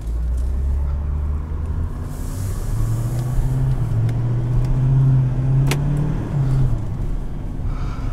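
Cummins diesel engine in a 2017 Nissan Titan XD pickup, a steady low rumble while driving from inside the cab, with a slight shift in pitch midway and no talking.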